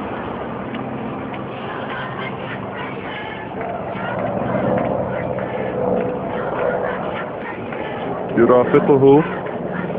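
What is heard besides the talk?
military aircraft flying overhead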